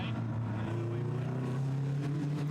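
TVR race cars accelerating over the line at Thruxton circuit, a loud, rising engine roar holding steady through the short stretch, with a commentator talking over it.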